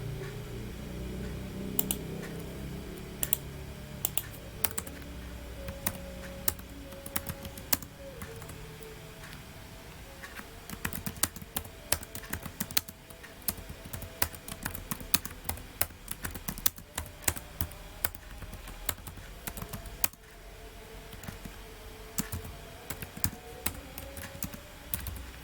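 Keys clatter on a computer keyboard during network DHCP configuration work, a steady run of light, close taps with short pauses between bursts and no talking.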